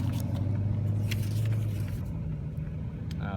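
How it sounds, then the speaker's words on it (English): A low rumble of cars passing at a distance at a quarter-mile drag strip, a steady road drone with no talking. "There's a few vehicles driving by."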